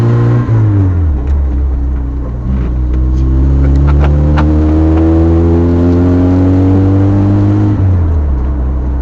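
A cheap, worn-out old car engine drones loudly and close while driving, its pitch sliding down, holding steady, then dropping again as the gears change, with no talk over it.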